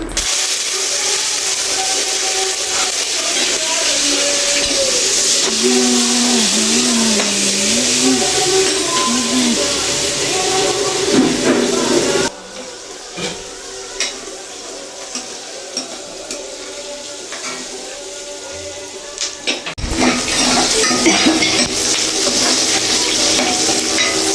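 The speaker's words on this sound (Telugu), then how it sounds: "ఆనియన్స్ అండ్ పచ్చిమిర్చి రెండు కలిపి మనం ఆయిల్లో మనం ఫ్రై అయిన దాకా బాగా వేపుకోవాలి" Onions and green chillies fry in oil with a continuous, loud sizzle and occasional stirring scrapes, the hiss dropping briefly before surging back.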